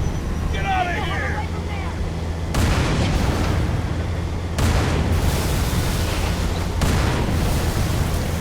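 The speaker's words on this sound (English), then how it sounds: "Oh, the explosions." Explosions in a Halo game battle with tanks and Banshees, three heavy booming blasts landing a couple of seconds apart over continuous battle noise.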